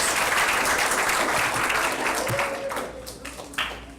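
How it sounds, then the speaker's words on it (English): An audience bursts into dense, loud applause that fades over a few seconds, with a voice beginning to speak as the clapping dies down. "Let's give her a round of applause."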